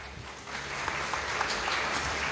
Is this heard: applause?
yes